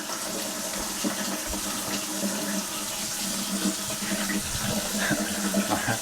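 Water runs steadily through newly installed household plumbing, a close, continuous hissing flow like a tap or sink filling, with no pauses.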